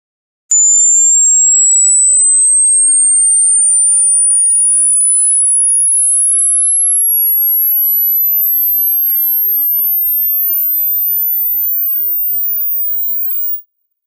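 A single pure high-pitched headphone test tone sweeps slowly upward toward 20,000 Hz for about thirteen seconds, steady and loud, then cuts off.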